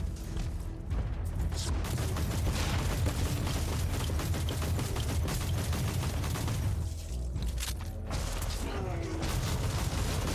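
Radium Carbine fire in Warhammer 40K: Inquisitor - Martyr: a loud, nearly continuous volley of rapid shots with mechanical clatter and booming impacts, broken by a short lull about two-thirds through.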